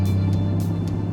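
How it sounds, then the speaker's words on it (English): A manual transmission car's engine idles low and rough, a deep steady hum with a few soft rhythmic pulses over about a second, close and alone. "You're gonna probably feel the car start to idle a lot lower and a lot rougher"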